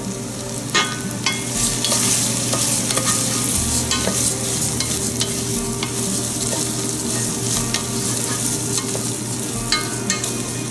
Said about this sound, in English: And then we're going to fry it in low heat for about 3-4 minutes